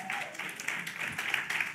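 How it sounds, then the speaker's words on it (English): Short burst of audience clapping in a community outreach session room, a crowd of hands applauding at close range with uneven bursts of claps. "Y'all clap it up."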